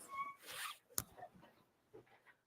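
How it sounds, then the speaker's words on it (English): A quick rasping pull of a plain black 18-inch zipper, with a short sharp click and soft handling rustles around it, faint and close indoors. "I have a plain black zipper here."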